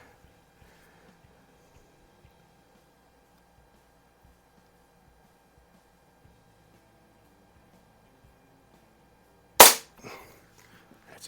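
A Walther LGR .177 airgun fires a single sharp pellet shot at a range, one loud crack late in an otherwise quiet stretch, followed by a brief fading echo.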